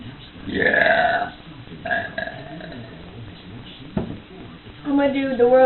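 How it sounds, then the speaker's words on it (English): A person produces a long, drawn-out burp with wavering pitch that stretches for several seconds, followed by a second rising burp toward the end, close to the microphone. "I'm gonna do the world's longest burp"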